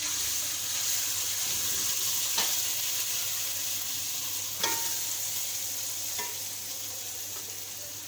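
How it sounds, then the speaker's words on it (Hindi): Sugar and rice are stirred in hot ghee over a low flame, with a steady close sizzle and a few sharp scrapes of a spoon against the pan, and no talking. "आप इसमें बारी बारी चीनी मिक्स करेंगे और चावल"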